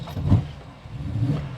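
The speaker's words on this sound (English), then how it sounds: "So you're going to turn the car on when it's hot." A 1978 Aston Martin V8 Coupe with carburetors cranks on a hot start, giving two short, low, throbbing engine bursts close by.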